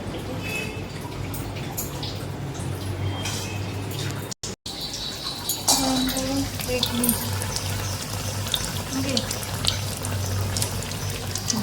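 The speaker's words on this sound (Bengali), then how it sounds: "গরম গরম বেগুনি ভাজা।" Pumpkin beguni fritters in gram flour batter deep fry in hot oil with a continuous bubbling sizzle and scattered crackles, heard near and steady while people talk over it.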